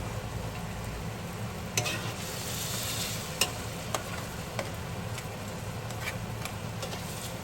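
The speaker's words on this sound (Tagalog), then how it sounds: "So halo-haluin lang po natin hanggang maging malapot yung ating sauce." Coconut milk sauce for crab is stirred in a pan with a soft, steady sizzle and occasional light clicks of the utensil against the pan, close and continuous, with no voices.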